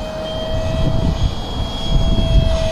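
An F-15 model jet with a 64mm ducted fan flies a low pass, its steady high-pitched whine holding a constant tone while the roaring rush swells and stays loud close by.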